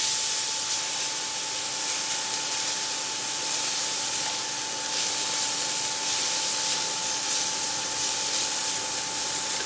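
Garlic sizzles in a hot pan in a small RV kitchen, a steady close hiss with faint crackling that holds evenly throughout, with a thin electrical hum underneath.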